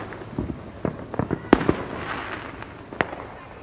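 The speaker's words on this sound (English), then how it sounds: "Look at all the fireworks coming off that float." Fireworks burst off a parade float in a scattered series of sharp bangs and crackles, a few loud cracks standing out over a steady outdoor rumble, with no talk.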